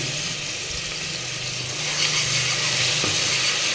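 Ground garlic and onion masala paste hits hot oil and mutton fat for a village-style mutton curry, giving a loud, steady sizzle that swells as the paste fries, with a single utensil clink near the end.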